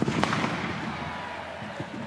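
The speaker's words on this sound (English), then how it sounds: "And the cannon is firing here at Industry Group Stadium in Gosford." A celebratory cannon fires at Industry Group Stadium in Gosford during an A-League derby, with sharp blasts near the start and a loud crowd roaring on behind them.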